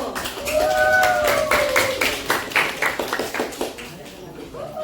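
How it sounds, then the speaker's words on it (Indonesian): A classroom of students claps together for a group after a lesson on the human movement system, a burst of uneven hand claps with voices calling over it that thins out toward the end. "kita tepuk tangan dulu untuk kelompok 1"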